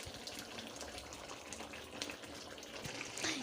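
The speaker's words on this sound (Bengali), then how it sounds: "এবার পরিমাণ মতন জল দিয়ে দিচ্ছি" Water poured into a karahi of simmering jackfruit and chicken curry, a steady close rushing splash that runs unbroken for a few seconds.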